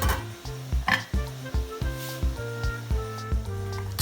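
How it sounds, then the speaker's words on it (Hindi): Chicken pieces cooking in oil in a covered pan, a steady close sizzle with rhythmic bubbling pops and faint clinks throughout, no voices. "अब इसको लीड से कवर करके 5 से 6 मिनट बगैर मसालों के तेल में पकने देंगे"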